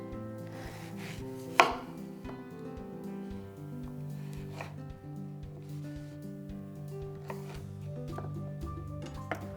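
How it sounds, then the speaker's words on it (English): Washed, unpeeled pears being roughly chopped with a knife, with a few distinct knocks of the blade against the board spaced through the stretch over a steady tonal background, no talking. "I just get them roughly chopped"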